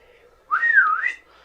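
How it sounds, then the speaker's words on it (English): A single rising-and-falling human whistle, the kind a father used to call children home, sounds loud and close for under a second with no talk. "He would always whistle twice."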